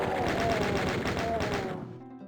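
Chaingunner enemies in Doom 2 fire in a rapid, evenly spaced burst of shots, loud and continuous before trailing off into a short fading tail.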